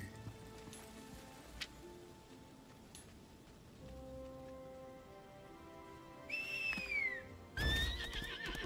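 Quiet background ambience with a few faint clicks, then two loud horse whinnies near the end, the second one louder and closer, in the video game Lost Ark.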